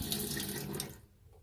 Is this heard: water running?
yes